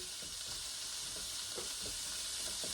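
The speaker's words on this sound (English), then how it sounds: "So I'm just going to cook this just until the meat gets brown" Kielbasa sausage browning in a crowded pan, a faint continuous sizzle with occasional light stirring taps and no voices.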